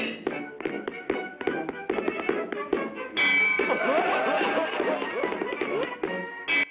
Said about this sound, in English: The choreographed punches that match the rhythm and bells solicit more of a reaction from the audience.